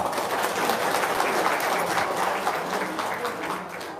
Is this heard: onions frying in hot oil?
no